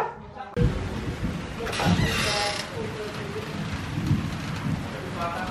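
Steady, dirty rain falls heavily during the Taal Volcano eruption with a dense hiss, with a low rumble and some irregular pattering of drops.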